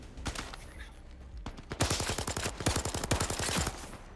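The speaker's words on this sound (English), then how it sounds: "Friggin' recoil on this damn gun." Rapid bursts of automatic gunfire from a weapon in the virtual reality shooter Zero Caliber VR, a few scattered shots first, then a long, loud, steady rattle of repeated reports up close.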